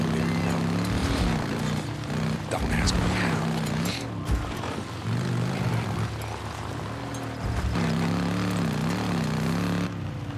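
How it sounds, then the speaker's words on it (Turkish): Droning rotor and engine noise of a helicopter in the video game Days Gone, steady and loud throughout, with a pulsing low hum that rises and falls. "Helikopter."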